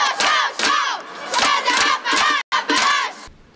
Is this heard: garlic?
no